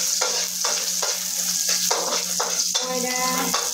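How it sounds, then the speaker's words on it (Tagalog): Onion and tomato fry in hot oil, a loud, steady close sizzle with bursts of stirring and spatula scraping against the pan, continuous for the whole stretch with no talk. "Ako ay magpiprito na ng sibuyas, kamatis,"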